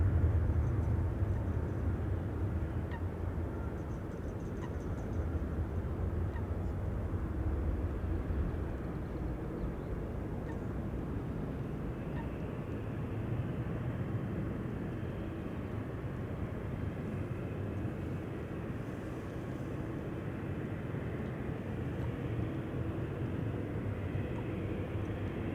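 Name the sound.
KLM Boeing 737 departing Amsterdam Schiphol, runway 18 Left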